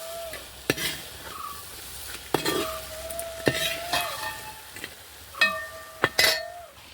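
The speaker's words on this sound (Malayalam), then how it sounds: "മീൻ തൊടയാതെ നന്നായി ഒന്ന് മിക്സ് ചെയ്തെടുക്കാം" A spoon stirs sardine pickle in a pan: repeated sharp metallic clinks and scrapes at irregular intervals over a soft background sizzle, close and fairly quiet.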